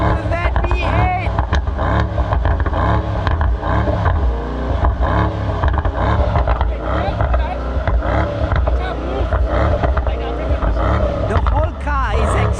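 Deep, sustained V8 roar from a Mercedes-AMG GT 63 S 4-Door in Race Plus mode, loud and close with repeated swells of revving, the car shimmying as a voice talks over it.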